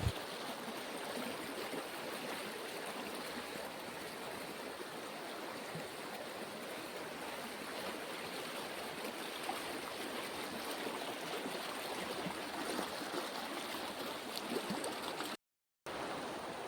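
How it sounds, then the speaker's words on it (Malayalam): Clear river water flows and babbles steadily, a close, continuous wash of rushing sound with no voices, broken only by a brief cut near the end. "ഈ ഭാഗത്തു കൂടെ വെള്ളം ഇങ്ങനെ നല്ല കളകളകളകളാ ഒഴുകുകയാണ്."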